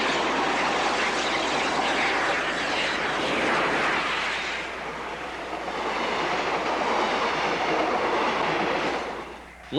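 A steam train hauled by a 15th class locomotive rumbles past on the rails near Bulawayo, a loud continuous roar of wheels and wagons that eases slightly midway before surging again.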